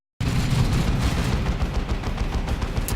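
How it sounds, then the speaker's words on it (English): Dense, continuous gunfire bursts from a Havoc squad of Chaos Space Marines firing at point-blank range on Orks in Dawn of War 2 Retribution, loud and unbroken, with no voices. "We do have the Havoc squad opening fire on these Slugger boys over here at point blank range"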